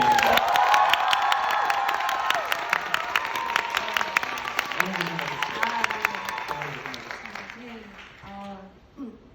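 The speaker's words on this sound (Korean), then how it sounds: "큰 박수 한번 부탁드리겠습니다" Audience applauds and cheers at the curtain call of the musical Marie Curie, sustained clapping with whoops and shouts; a voice speaks over it and the applause thins and fades near the end.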